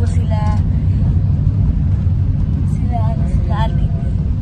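Low steady engine and road rumble fills the cabin of a moving service vehicle, with people talking inside over the constant drone.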